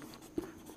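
A pen scratches briefly on paper while an equation is written during a class 9 math lesson, a faint, short stroke with a tiny tap, quiet and close, with no voice.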